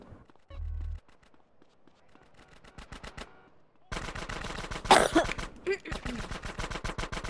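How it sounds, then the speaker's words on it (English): Gunfire from a character shooting into the air in GTA San Andreas: after a short burst and quieter rattling, loud rapid automatic bursts erupt, with sharp overlapping shots and street noise in between. "Please stop shooting into the air."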